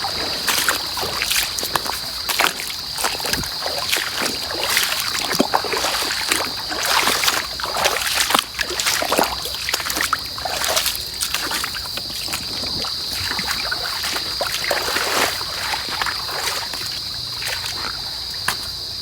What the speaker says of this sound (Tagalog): May ilog dito